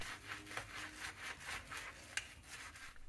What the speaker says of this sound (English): Next, I'm going to scrub the sink with some dish soap.